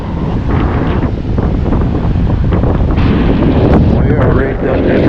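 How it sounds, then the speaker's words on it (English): Strong wind at New Smyrna Beach, Florida, buffets the microphone with a loud, constant low roar, surf faintly underneath and a voice partly buried in the gusts. "If the wind wasn't so bad"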